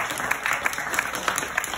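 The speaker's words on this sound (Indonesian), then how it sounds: "beri tepuk tangannya" Seminar audience at a sales community event clapping together, a crisp crackle of many hands with occasional stronger claps, loud and continuous.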